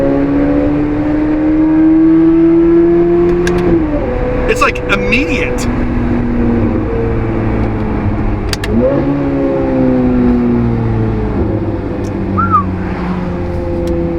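A C8 Corvette engine drones and climbs steadily, dropping twice as paddle-shifted gears change and then pulling up again, loud and close, with a brief spoken remark.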